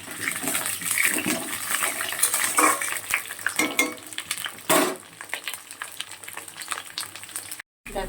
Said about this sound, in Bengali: আলুগুলো বেশ লাল লাল করে ভেজে নেব।